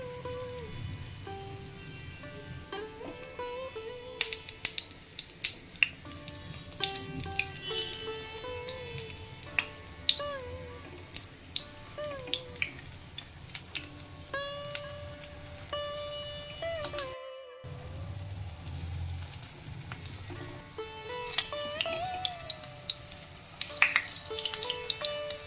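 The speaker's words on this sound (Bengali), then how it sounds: "বড়াগুলোকে তেলে দিয়ে এপিট ওপিট করে ভালো করে ভেজে নেব।" Pumpkin leaf fritters, stuffed and fully vegetarian, fry in hot oil, giving a steady close crackle and sizzle with scattered sharp pops throughout, while faint background sounds carry on underneath.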